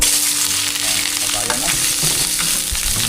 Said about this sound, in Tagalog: Ilagay na po natin yung ating bawang sibuyas at luya.